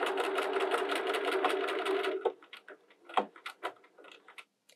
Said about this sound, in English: You'll notice on screen it's showing me what it's stitching right now